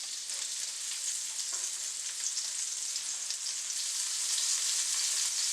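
Onions fry in sesame oil in a pan for beef fried rice, giving a continuous bright sizzling hiss with faint stirring, close and steady with no talking.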